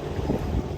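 A boat travels along the Maduganga river, its low, steady engine rumble mixed with wind buffeting the microphone, continuous and fairly close throughout.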